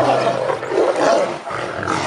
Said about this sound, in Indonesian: Wah, si raja hutan. Mantap. Ini ada harimau